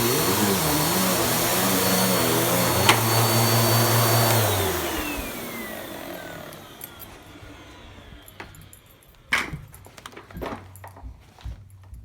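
Close, loud roar of a Bissell 9595A vacuum cleaner with an abnormal wavering whine, running steadily for several seconds before spinning down and fading out, followed by scattered clicks and knocks.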